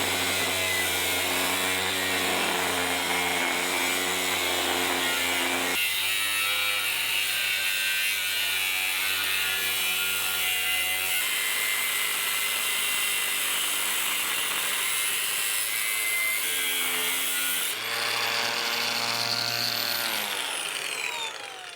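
A power saw cuts through a steel post on a cheap metal welding table, whining steadily and loud, its pitch shifting several times as the blade bites, then spinning down at the end, with no voices.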